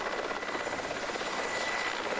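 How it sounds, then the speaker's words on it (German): A helicopter flies low in a train simulator game, its rotor giving a loud, continuous rapid chop with a steady engine whine, close and unbroken throughout. "Mit dem Hubschrauber mitfliegen. Fliegt er etwa jetzt hier durch die Seile?"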